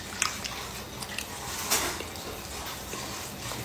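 Close-up eating of a cheese-filled snack during a mukbang: a sharp bite followed by soft, wet, squishy chewing, heard alone and close to the mic.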